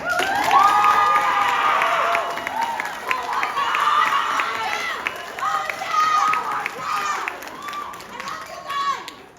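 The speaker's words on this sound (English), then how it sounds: "let's give a round of applause to two of our lead actors, Harlequino and Columbina as Cinderella" Theatre audience cheering and clapping for the lead actors playing Cinderella, a loud, sustained crowd roar with whoops and high children's voices over steady applause.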